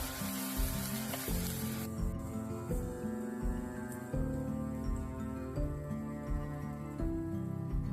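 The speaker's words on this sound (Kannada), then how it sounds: "ಇವಾಗ ರುಬ್ಬಿದ ಮಸಾಲೆ ಹಾಕ್ತಾ ಇದ್ದೀನಿ" Ground masala sizzling and frying in a pan for a festive holige saaru, with a bright hiss strongest in the first couple of seconds before fading under steady background music.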